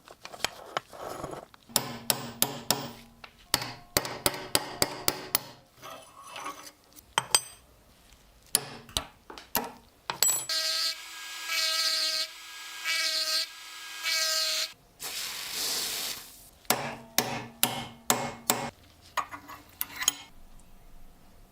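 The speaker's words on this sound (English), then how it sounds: "the pins are driven out using a hammer and punch" Sharp metallic hammer strikes ring out in quick clusters, driving pins out of a rusted balisong knife with a punch, with brief pauses between bursts and a steady ringing tone at times.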